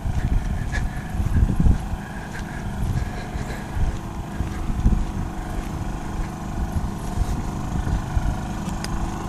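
A Honda 2000 portable generator idles in eco mode at an outdoor campsite in Mammoth, California, giving a steady, moderately loud engine drone with a low rumble that holds without pause.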